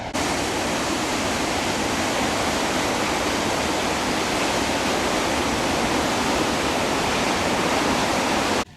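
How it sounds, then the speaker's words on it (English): Gullfoss waterfall in Iceland, a steady, loud, broadband roar of falling water that holds unbroken from start to finish with no voices. "The highlight of the Golden Circle Tour is the Gullfoss waterfall."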